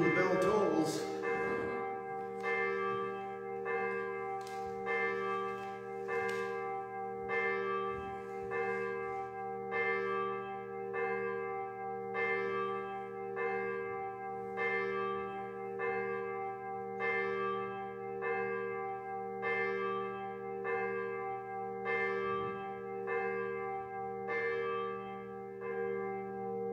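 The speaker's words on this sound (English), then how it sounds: "Ask not for whom the bell tolls." Church bell tolling steadily on a chilly Sunday morning at a Universalist church in New Madison, each stroke ringing out at a slow, regular pace with long ringing overtones that fill the quiet, with no talking.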